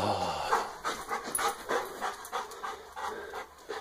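A wet dog pants rapidly after a mile-long walk in cold December rain, close and fairly quiet, with a steady rhythm of quick breaths and occasional soft whimpers.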